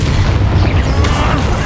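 A Bombarda spell detonates in Hogwarts Legacy, a loud, continuous rumbling boom that fills the whole moment with deep roaring noise.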